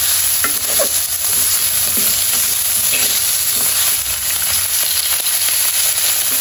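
Chicken with ground black pepper stirred in a hot frying pan, a loud continuous sizzle with frequent scraping and clinking strokes of the spatula close by.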